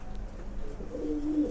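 A pair of flying pigeons gives a faint, short coo that rises toward the end over a quiet, slightly noisy background.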